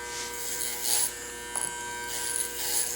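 Electric hair clippers buzzing steadily while cutting hair at a barber training session, a close continuous whine that swells and dips as the blade passes over the head, no talking.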